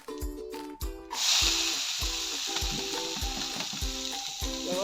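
Dal sizzles in hot ghee in a pan, a steady close frying hiss, with a faint repeating tonal music pattern underneath throughout.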